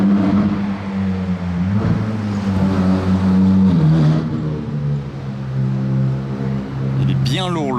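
A Ferrari Pista Spider arriving on a Monaco street gives a loud, sustained engine drone that swells and eases, with people talking over it.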